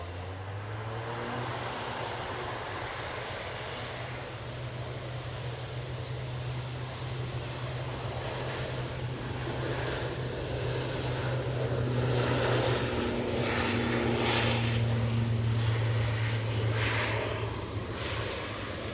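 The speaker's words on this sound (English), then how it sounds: "next out will be this Aurigny ATR 72 going back to Guernsey" An Aurigny ATR 72 turboprop departs for Guernsey, its propeller drone loud and sustained with a steady low hum, swelling slightly louder midway as the engines build.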